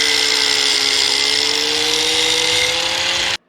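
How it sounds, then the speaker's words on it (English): An angle grinder cuts down overlong metal bolts, a steady high-pitched whine held at close range for over three seconds before it stops abruptly, with no talk over it. "These bolts are too long, so I need to trim them off with my grinder"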